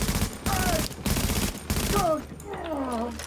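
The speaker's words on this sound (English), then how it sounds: "If you shoot in short bursts like that with your assault rifle" Assault rifle fire in Tom Clancy's game, several short bursts of rapid shots close and loud, separated by brief pauses, with a voice talking over the later part.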